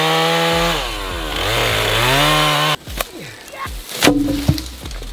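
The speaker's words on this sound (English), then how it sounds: "I can go get my chainsaw" A chainsaw running loudly and close, its engine revving up and settling in a steady drone, then cutting off into a few sharp knocks and clatters of chopped wood.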